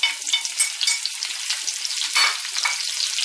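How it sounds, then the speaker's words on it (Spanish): Onion and two kinds of peppers fry in oil in a pan, giving a steady, close hiss of sizzling with small crackling pops and no talking. "he puesto una sartén con aceite y vamos a pochar la cebolla"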